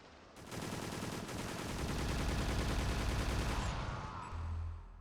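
Gunfire in a boss fight in the video game Extermination, a dense rapid stream of automatic shots lasting several seconds, loud and close, with no talking.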